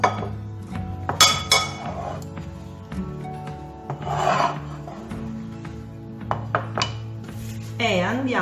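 Chopped green beans going into a bowl in a kitchen, with close clinks and scrapes of dishes and utensils scattered through the clip, plus a low steady hum underneath.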